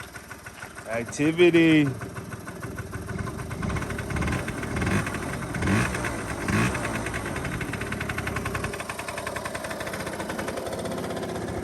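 Restored 49cc scooter switched on and started: a short rising whine and rev, then a small engine settling into a fast, slightly knocking idle that runs on with a few blips, while someone speaks briefly.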